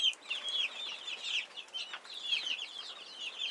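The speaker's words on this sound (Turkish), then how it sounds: "Legbar horozumuz şurada arkadaşlar." Chickens clucking in a coop alongside a Legbar rooster, a busy run of bright, overlapping clucks and short calls heard close up, with no one speaking.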